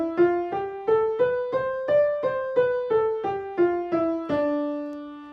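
A D Dorian mode scale played from D as single clear notes at a steady pace, climbing up and then descending back down. The final low note rings out and slowly fades, with no voices over it.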